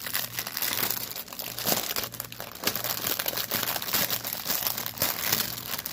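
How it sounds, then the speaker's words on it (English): A plastic baggie holding an embroidery stamped kit's threads crinkles and crackles steadily as it is opened and handled up close, the rustling continuous for several seconds with no talk. "Let's get it out of its baggie here."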